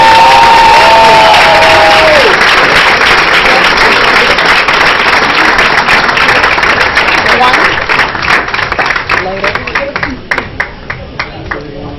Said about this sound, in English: give these folks a big, big, big round of applause, please